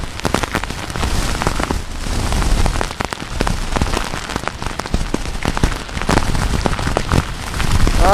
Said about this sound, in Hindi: वहां पर तेज हवाएं और तेज बारिश हो रही है।